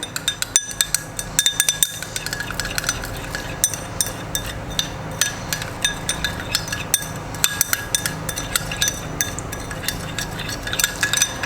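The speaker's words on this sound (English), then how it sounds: "I'm just stirring this slowly because I don't want it to become fluffy." Small metal spoon clinking steadily against a small bowl while slowly stirring egg white, with repeated light taps and scrapes and no talking.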